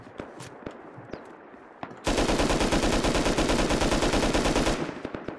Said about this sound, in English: so when you shoot him in this shoulder